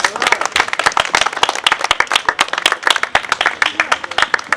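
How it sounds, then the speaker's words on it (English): A small outdoor crowd at a rally to save a historic house claps enthusiastically, with individual hand claps sharp and distinct in an irregular, fast patter that stays loud and close throughout. "Let's give that a warm round of applause, please."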